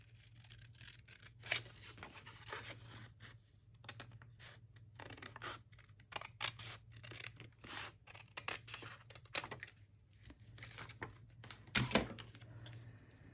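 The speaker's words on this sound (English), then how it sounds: "Let's cut this out." Paper being cut out with scissors for a lavender interactive journal page, repeated close snipping and crisp scratchy cuts in irregular bursts, with a louder rustle near the end, no talking.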